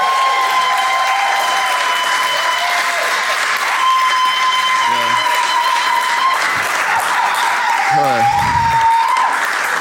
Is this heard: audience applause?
yes